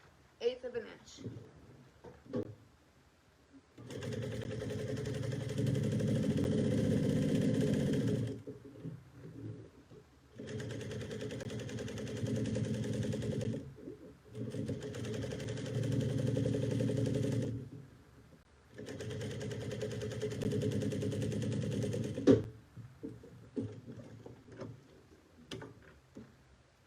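A sewing machine stitches a 1/8-inch seam on a Bonnie bucket bag in several loud, steady bursts separated by short pauses, with quieter handling noises before and after.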